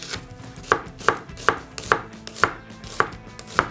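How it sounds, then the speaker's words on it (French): A knife slicing an onion on a cutting board for rougail saucisse, with eight crisp, evenly spaced chops in a steady rhythm, close and clear with nothing else around them. "On peut à présent émincer notre oignon."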